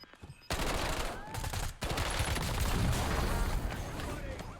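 Rapid gunfire in the video game Warzone, with a brief shot followed by a dense sustained burst of loud automatic fire lasting several seconds.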